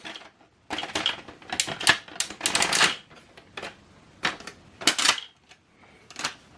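Clicks, snaps and sliding plastic rattles from the paper tray of a Brother DCP-L3560CDW colour laser printer being extended and adjusted for paper sizes, heard close up in irregular short bursts with no talk.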